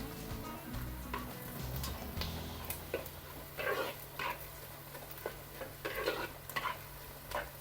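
Green chillies and onion fry in a pan with curry leaves, a steady soft sizzle with intermittent stirring scrapes and ticks, close and moderately quiet, no talking.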